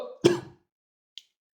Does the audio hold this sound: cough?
yes